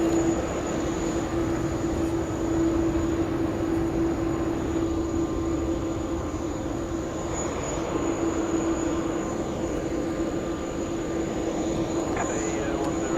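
An American Airlines jet departing Sydney Airport's runway 16 right, a steady, distant engine drone with a sustained low hum holding evenly throughout.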